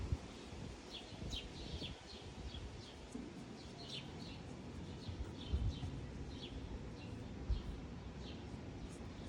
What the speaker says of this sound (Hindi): बहुत अच्छी हवा चल रही है